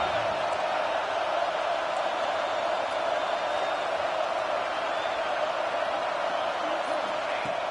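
Stadium crowd roar in the NCAA 26 football video game during Arkansas vs. Michigan, a dense, constant wall of cheering noise building for a red zone stand, steady and loud throughout.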